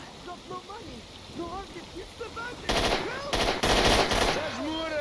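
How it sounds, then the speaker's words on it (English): Automatic gunfire in S.T.A.L.K.E.R. rattles in rapid bursts through the second half, loud and dense over a quieter bed of ambient game sound, with someone talking during the opening stretch. "I'm firing the gun"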